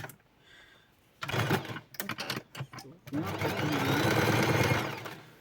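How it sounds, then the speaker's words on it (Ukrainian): A sewing machine stitches a hairdresser's apron up close, first in short stop-start bursts and then in one longer steady run of rapid mechanical chatter. "Тепер тут загинаємо і прострочуємо."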